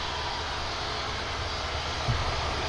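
An Air Canada airliner comes in to land at Manchester Airport, a steady broad engine roar held at an even level throughout, with no talk.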